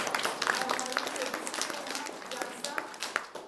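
An audience claps at the inauguration and blessing of Nirmala Academy in Gurha, Daltonganj. The clapping is scattered and fairly even throughout, with people talking over it.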